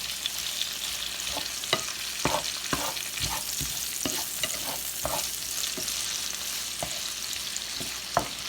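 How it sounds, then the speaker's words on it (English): Bacon crackles and sizzles in a pan as it fries toward crispness, a steady close hiss scattered with sharp pops and spatters throughout. "So we're going to fry this until our meat gets nice and crispy."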